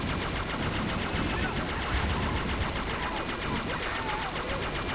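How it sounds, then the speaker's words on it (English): Ghost vehicle plasma cannons firing rapidly in Halo CE, a dense continuous stream of buzzing shots over constant vehicle noise, loud and close throughout. "We can strafe around to our heart's content and blast the enemy with its plasma cannons."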